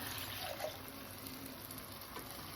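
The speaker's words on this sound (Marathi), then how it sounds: "त्याच बॅटरमध्ये आपल्याला असे 2 ग्लास भरून पाणी टाकून द्यायचं आहे" Water poured into gram flour batter for kadhi pakoda, a soft steady liquid gush heard close and faint, with no talk.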